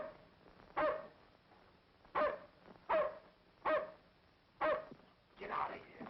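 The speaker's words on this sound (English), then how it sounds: "But you can't let him bark." A dog barks in sharp, evenly spaced single woofs, six in all, at moderate distance indoors at night, with faint background murmur between barks.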